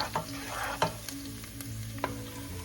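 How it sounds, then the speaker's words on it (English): Ground pork with garlic browns in a hot pan, giving a soft steady sizzle broken by a few sharp clicks and scrapes of stirring. "Brown that up a bit."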